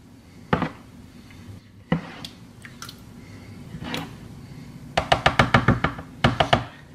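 Shrimp for a seafood shrimp cocktail being stirred in a bowl, giving a few soft wet squishes and thumps, then bursts of quick rhythmic clinks and taps of a utensil against the dish, close and fairly quiet.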